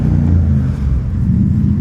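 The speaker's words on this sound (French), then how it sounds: "Un autre Diavel qui arrive. Un X-Diavel celui-là." A Ducati X-Diavel motorcycle arrives with a steady, deep low engine rumble, close and loud throughout the short stretch, with no voices over it.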